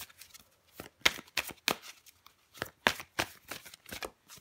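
Tarot cards being shuffled and drawn, a series of crisp, close riffling and slapping card sounds in irregular bursts, quiet and without talk.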